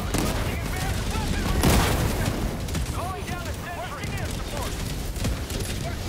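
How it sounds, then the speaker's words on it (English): Autocannon artillery fire in a video game forms a dense, continuous barrage of booming bursts and crackle, loud throughout, with voices talking over it. "I'm going for the artillery. I've got an auto cannon dropping in."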